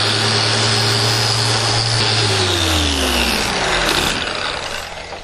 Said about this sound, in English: So I'm going to go ahead and just sand the whole coupling there.